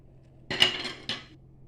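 Two short clinks of a utensil against a pot while a cornstarch and flour mixture is stirred, close and fairly quiet, the second knock about half a second after the first.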